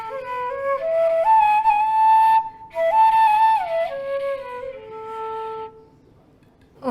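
A phrase in raga Hamsadvani rings out with gamaka ornaments, the notes bending and sliding between pitches with small wavering inflections, a brief pause in the middle, then a long held tone fading away; close, with no talking.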